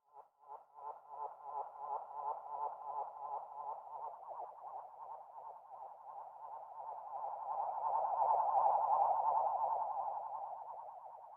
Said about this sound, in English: just playing around with the self oscillation and the noise from the pedal